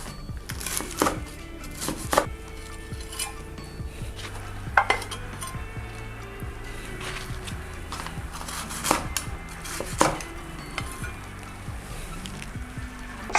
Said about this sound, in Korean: 닭고기를 썰겠습니다.